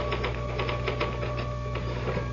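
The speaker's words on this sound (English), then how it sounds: "Can I use the typewriter for a moment?" Rapid typewriter keystrokes in a radio drama sound effect, a steady clatter of closely spaced strikes running for a couple of seconds against a low hum.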